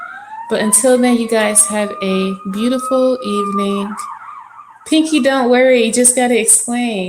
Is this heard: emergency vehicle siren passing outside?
yes